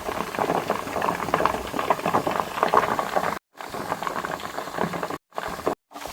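Used cooking oil crackling and sputtering in a pan as added water boils off, a continuous dense bubbling hiss with a few brief gaps.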